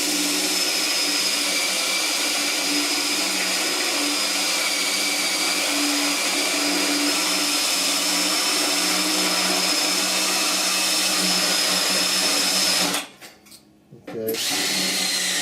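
Drill with a spot weld cutter bit, lubricated with cutting oil, boring through steel on the core support of a 1969 C10 truck: a loud, steady high-pitched whine that holds for about thirteen seconds, cuts out briefly, then starts again.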